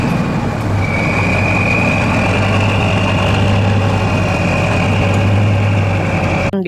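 Super racing truck with a heavy diesel engine idling close by, a loud, steady low rumble with a whining overtone held throughout, ending in a brief click.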